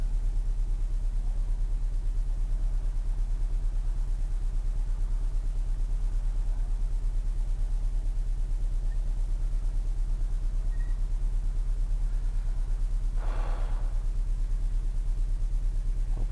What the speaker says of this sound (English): Yeah, she's still misfiring. She's dead missing on 4 still.